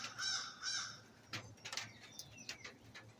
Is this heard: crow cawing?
yes